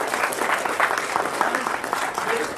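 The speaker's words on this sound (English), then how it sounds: "let's give him a round of applause" An audience at a sales meeting breaks into brisk applause, a steady patter of many hands at moderate loudness with a little chatter mixed in.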